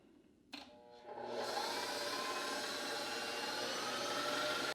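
An electric mixer switches on and ramps up to a steady high-speed whir as it whips keto royal icing, loud and continuous after a brief click and spin-up.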